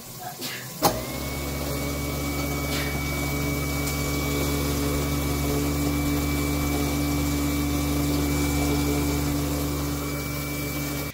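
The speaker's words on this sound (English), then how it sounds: "plug in the disposal, and test it for leaks" A Waste King L-8000 garbage disposal, just installed under a kitchen sink, starts with a click and then runs as a steady, close motor hum with a constant drone for the rest.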